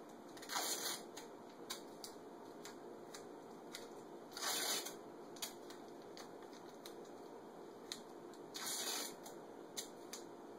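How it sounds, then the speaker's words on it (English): Masking tape pulled off the roll and torn into strips, three loud broadband rips about four seconds apart with faint crinkly handling between, close by and without speech. "What I like to do is take about 5 strips of masking tape"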